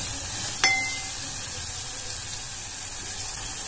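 A little hot water hits a frying masala of tomato and onion for palak paneer. A loud, steady sizzle hisses throughout, marked by one brief metallic clink early on, with no talking.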